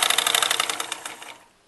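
A sewing machine stitches a baby elastic frock in a fast, even run of rattling needle strokes, close and fairly loud, slowing and fading out at the end, with no voices.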